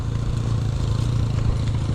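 Motorcycle riding down a mountain road, its mid-pitched engine droning steadily and close throughout, with some clatter and rattle over the rough descent and no talking.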